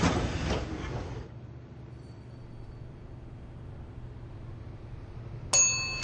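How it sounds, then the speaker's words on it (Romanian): Metro train doors close in a Roblox recreation of the Bucharest M4 line, a loud hiss and clatter of the doors at the start, then quiet rumble, and a bright electronic chime tone sounding near the end. "Atenție, se închid ușile."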